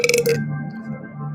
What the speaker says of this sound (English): Y'all heard how that burp came